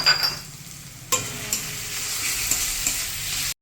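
Chopped tomatoes hit hot oil with fried ginger and garlic, a sharp sizzle burst at about one second, then steady frying hiss with a few stirring clinks before cutting off, no voices.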